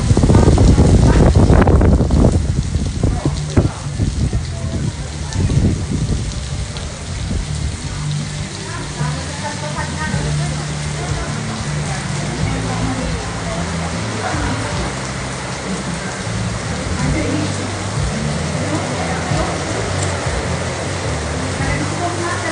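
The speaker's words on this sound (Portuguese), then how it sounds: "olha a chuva, ó, delícia, eu acho que chuva tem tudo a ver com fazenda" Steady rain pours down on a farm in a continuous wash of noise, with a few louder bursts at the start and a voice talking briefly over it.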